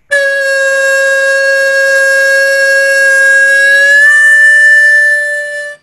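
A harmonica holds one long, loud, bluesy note in a tune, played in third position, bending slightly near the end before fading out, close-up and alone.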